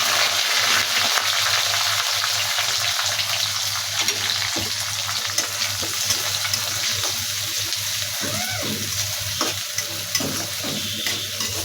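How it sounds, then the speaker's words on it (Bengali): Four chopped onions frying in oil with whole spices for a chicken kala bhuna, a steady loud sizzle with occasional stirring scrapes throughout. "পেঁয়াজটা হালকা ভেজে নিব।"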